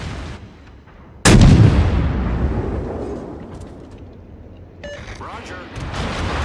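A warship's guns in World of Warships fire one sudden, heavy blast, and its booming rumble fades slowly over several seconds while softer game sounds continue.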